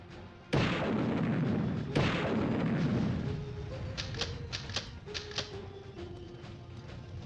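Gunfire in the combat video game Army Men: Sarge's Heroes: two loud booming shots ring out with long decaying rumbles, followed by a quicker run of lighter, sharper shots and a faint electronic tone, with no voices.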